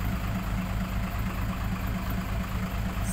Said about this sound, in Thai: ฝั่งนี้ก็จะเป็นรถไถครับคูเวต้า